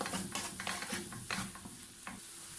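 Spices frying in a pan for a Spanish tortilla, a steady sizzle with repeated scraping strokes of stirring, close and continuous with no voices.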